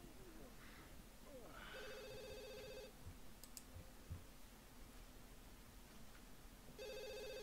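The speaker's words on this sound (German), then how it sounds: "Da wollte das Telefon angehen, ne?" A telephone rings in The Sims 2, with a clear electronic trill in one burst near the start and another at the end over a quiet game background.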